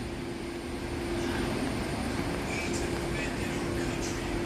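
A small jockey pump for a fire sprinkler system runs in a boiler room, giving a steady low hum with a constant tonal whine and broadband mechanical noise, faint and continuous.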